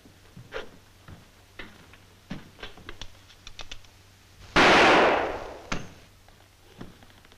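A single close gunshot fired into a coat cracks out loudly midway, with a short decay, amid quiet rustling and small handling clicks in an old radio-drama setting.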